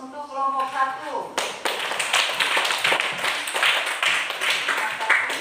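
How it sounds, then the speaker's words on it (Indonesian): A classroom audience applauds a student group, giving several seconds of steady, close clapping right after a short spoken line. "Kita beri aplaus untuk kelompok 1."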